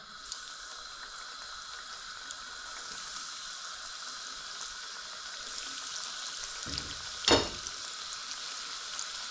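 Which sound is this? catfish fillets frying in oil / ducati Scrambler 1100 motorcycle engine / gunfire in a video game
catfish fillets frying in oil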